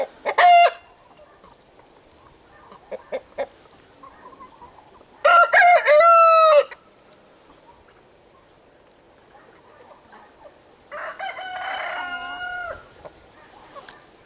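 A rooster among a flock of moulting chickens crows three times, each call loud and close, with soft clucks and quiet barnyard sounds filling the gaps between crows.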